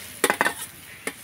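Grated carrot dropped into hot oil in a pan, a few quick clattering scrapes and sizzling bursts followed by one more clink, close and moderately quiet with no talking.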